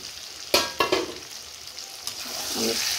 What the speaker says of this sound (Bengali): দেখো এইভাবে কষিয়ে কিন্তু ভাজা ভাজা হয়ে গেছে